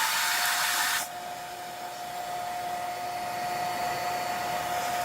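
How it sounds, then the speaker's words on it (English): A hair dryer on its low setting whirs steadily without pause, with a sharp drop in airy hiss after the first second before it settles into a constant low drone. "putting the hairdryer in first, having someone cover it, turning on the low setting"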